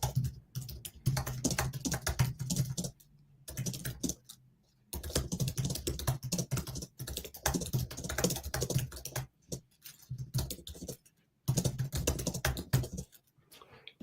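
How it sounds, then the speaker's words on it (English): Rapid typing on a computer keyboard during a writing sprint session, close and fairly quiet, in bursts of clattering keystrokes separated by brief pauses, with no talking. "I'm just finishing typing one thing."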